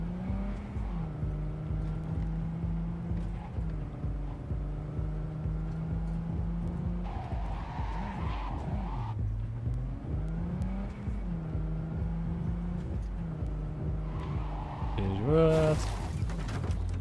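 A slow car drives in the Cyberpunk 2077 video game, its engine droning and rising and falling in pitch as it accelerates, ending with a louder burst and a squeal, while someone talks over it.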